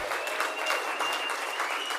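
Audience at the All First Nations Awards 2025 applauding award winners, a steady dense wash of clapping that holds at an even level throughout.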